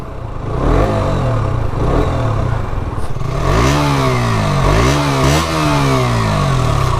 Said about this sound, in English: So it's a very smooth sound from the exhaust.